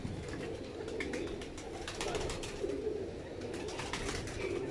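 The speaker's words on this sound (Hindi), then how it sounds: "बहरहाल ये देखे जी, ये शरीफ भट्ट साहब वाले सलारे कबूतर हैं।" Salara pigeons coo steadily on a rooftop, with several birds producing overlapping, rolling low coos. The sound is fairly close and continuous, with no voices.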